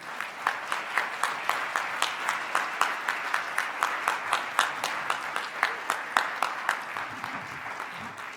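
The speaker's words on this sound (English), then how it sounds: "please join me in another warm applause for Rick Reese and Andy Wisdom" Steady, rhythmic applause from a press conference audience welcoming Rick Reese and Andy Wisdom to the podium, with evenly paced claps that keep going for about eight seconds at moderate volume and no talking.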